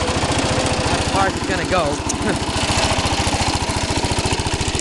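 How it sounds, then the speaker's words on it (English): A 1968 Cub Cadet lawn tractor engine runs at a steady fast idle with a regular low pulsing throb, its loose hood rattling throughout; a person speaks briefly over the running engine. "All that rattling is just the hood, it's a little loose."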